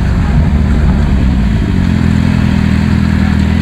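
A motorcycle rides along a road while being held in a wheelie on normally inflated tyres, its engine a loud, steady mid-pitched drone throughout with a constant rumble and no talk.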